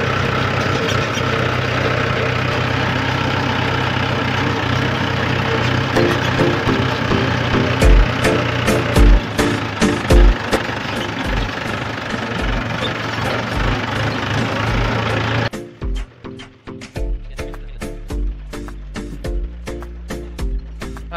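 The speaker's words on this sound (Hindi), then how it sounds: "ट्रैक्टर खेत में चलने लगा है" Mahindra tractor engine running in a farm field, a steady low diesel drone with rattling knocks, then the sound shifts abruptly partway through to a rougher, more irregular chugging with sharp clattering transients.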